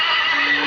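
A horse gives one short, loud, close whinny lasting under a second, with no other sounds around it.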